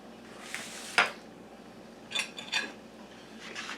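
Utensils scraping and clinking against a dish while a slice of chilled black cherry Kool-Aid pie is lifted out, a few short metallic taps and scrapes close by in a quiet room, no talk.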